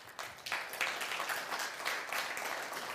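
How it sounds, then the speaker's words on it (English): An audience applauds at a company leadership camp, a steady wash of many hands clapping at moderate volume throughout. "a round of applause to Mr. Theo, under his leadership."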